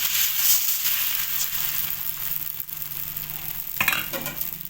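Chakuli pitha batter, spooned onto a hot tawa, sizzles in a steady, close hiss with a brief louder crackle near the end; no talking.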